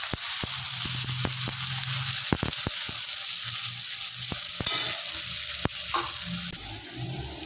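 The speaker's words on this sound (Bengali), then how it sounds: "পাঁচফোড়নটা তেলের মধ্যে একটু নাড়াচাড়া করে নিয়ে এবার দিয়ে দেবে কিছুটা চেরা পেঁয়াজ" Sliced onion and five-spice frying in hot oil, a steady close sizzle throughout, with repeated sharp clicks and scrapes of a spatula stirring the pan.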